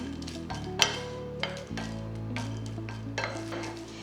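Cardamom and whole spices dry roasting in a pan for Kerala garam masala, with a spoon stirring and scraping, occasional light clinks against the metal and a soft steady rustle throughout.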